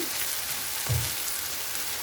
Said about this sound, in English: all we're doing is frying your onions and your spinach